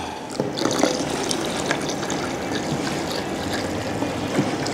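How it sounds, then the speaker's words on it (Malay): A small amount of water runs into a cooking pot of shellfish and yellow noodles seasoned with salt and palm sugar, a steady splashing trickle that keeps going alone, with no voices. "Okey, kita masuk air sikit."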